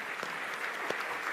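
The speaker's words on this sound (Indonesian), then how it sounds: "Tepuk tangan buat semuanya." Soft, distant applause from a seated audience at a light-hearted church gathering, a low steady patter with a few sharper claps standing out.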